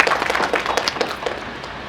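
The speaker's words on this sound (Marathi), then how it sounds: "जोरात टाळ्या।" A crowd claps loudly for a guest called onto the stage at a film and television academy event, a short burst of brisk, overlapping applause close at hand.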